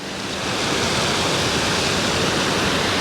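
A powerful waterfall roars from its top edge near the Zimbabwe border in Africa, a dense, steady rushing wash that holds close and loud throughout, with no voices.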